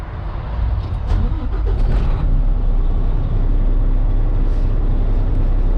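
A truck's diesel engine runs as a steady, loud low rumble throughout, with a brief rise near the start, heard inside the cab during a CDL in-cab safety start.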